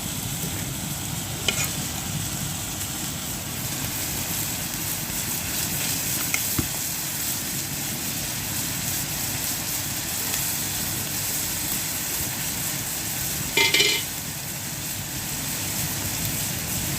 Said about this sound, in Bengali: এখন ভাজি করা হচ্ছে মলায়া মাছ